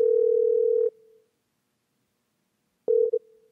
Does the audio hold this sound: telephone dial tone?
yes